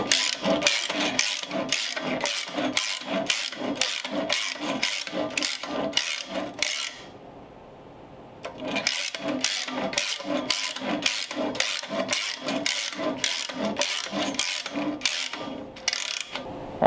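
Eastwood pipe and roll cage cutter working around a Ford driveshaft, giving loud rhythmic ratcheting clicks in steady bursts, a short pause, then the same fast clicking resumes.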